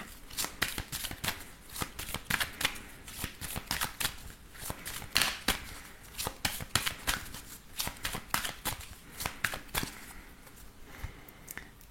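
Oracle and tarot cards shuffled by hand, a steady run of crisp riffling bursts repeating quickly and close up, with no talking.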